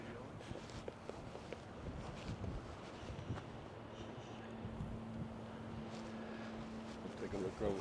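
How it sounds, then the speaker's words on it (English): Steady wind buffets the microphone on a mountain trail along the Appalachian Trail, a continuous rough rumble that swells and eases throughout, with low hums and faint scuffs underneath. "We're going to continue on in this wind."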